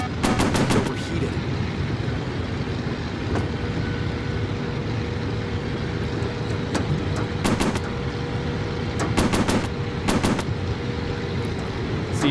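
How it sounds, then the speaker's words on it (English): Machine-gun bursts from warplanes in the Pacific combat VR game, steady engine drone underneath with repeated rapid rattling volleys at the start and again around the middle and end, loud and continuous, with someone talking briefly. "you gotta shoot in front of them to get where they're going to by the time the bullets get there"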